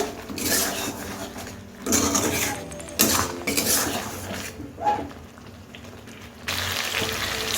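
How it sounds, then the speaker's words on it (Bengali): Chicken sautéed with spices in a pot, with metal spoon clatter and scraping against the pot in several uneven bursts over a low background sizzle, close up, no talking. "চিকেনটাকে কষে নেব"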